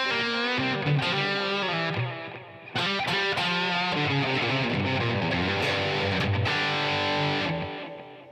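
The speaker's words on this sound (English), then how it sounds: "I have the JCM 800 as my dirty tone" Electric guitar played through a Marshall JCM 800 amp on its distorted setting, with thick overdriven chords and sustained notes ringing loud and close, a brief dip near the two-second mark, then continuous playing that fades at the end.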